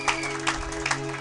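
A church congregation claps and cheers in praise, a dense continuous wash of applause with rhythmic surges, heard alone without clear speech.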